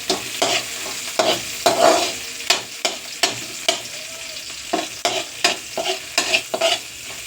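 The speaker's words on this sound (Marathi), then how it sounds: "तर आता मी ह्याच्यात टाकत आहे अद्रक लसूण पेस्ट. ह्याला आहे ना चांगलं असं हलवून घ्यायचं." Ginger garlic paste sizzles in a hot pan while a spoon stirs it, giving repeated scraping strokes in a steady, brisk rhythm over a constant low frying hiss, close and moderately loud.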